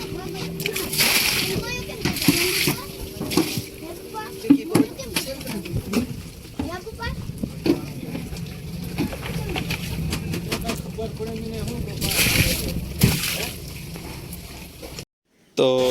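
Water splashes and sloshes repeatedly at a fishing harbour as a fresh catch, including pomfret, is washed, loud and close, with people talking throughout.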